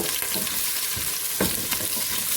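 Chopped garlic sizzling in a pan for vegetable soup, a steady close frying hiss with a few scrapes of stirring through it.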